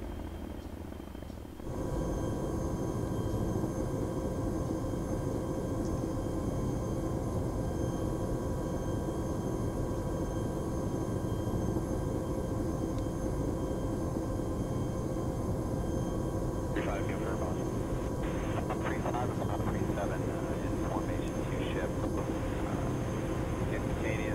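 Chinook helicopters fly in tight formation as a steady, loud rotor drone with a low throbbing rumble that holds unbroken for over twenty seconds, with radio chatter or voices faint beneath.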